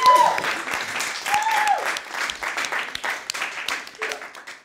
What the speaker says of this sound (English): let's give Jerica a huge round of applause